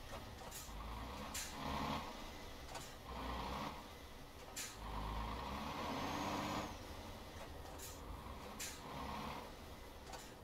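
Heavy truck engine labouring in the Promods truck-driving game as it fails to take a gear, a steady low rumble with rising and falling revving surges and short hissy bursts over about ten seconds.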